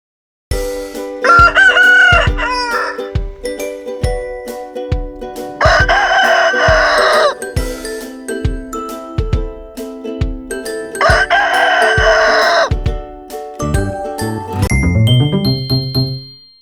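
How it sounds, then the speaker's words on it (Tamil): Two loud rooster crows stand out over a repeating, chiming children's tune with steady beats, ending in a jingly flourish. "சேவல் கூவும். சேவல் கூவும்."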